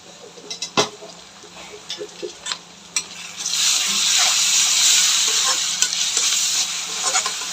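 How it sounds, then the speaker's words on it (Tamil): Ginger garlic paste sautéing in a pan for a mutton potato kulambu: a few scraping stirs come first, then a steady, close sizzle rises and holds to the end, with occasional spoon clicks. "இஞ்சி பூண்டு நல்லா பச்சை வாசனை போகிற வரைக்கும் நல்லா வதக்கிக்கோங்க"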